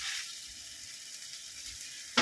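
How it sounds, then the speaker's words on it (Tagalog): Steady broadband sizzle from a hot pan of pancit bihon guisado as dark soy sauce goes in, a low continuous frying hiss with a sharper crackle burst at the very end. "ilagay po natin ang ating dark soy sauce"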